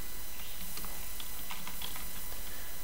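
Fruit names being typed on a computer keyboard, a short burst of light, quick key clicks over a steady background hiss.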